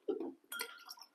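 An ice cube clinks against a glass of bourbon: two brief, faint glassy taps close together, quiet and close, with no voices.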